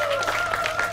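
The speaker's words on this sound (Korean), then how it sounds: "마지막 선수에게 경기의 박수 한번 부탁드립니다" Audience applause for a taekkyeon competitor at a 2019 taekkyeon battle event, steady clapping from a crowd with a sustained tone running beneath it, brief and fairly loud.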